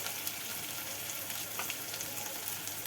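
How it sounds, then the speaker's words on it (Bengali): Meat and spices sizzle steadily while being fried and stirred in a pan, a continuous close hiss with small crackles and occasional scrapes of stirring. "ওই এবার একটুখানি মাংসটা মশলাটা কষছে।"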